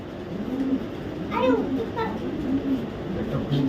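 Racing pigeons at a market stall give a few soft, low coos close by, over murmuring voices and background bustle.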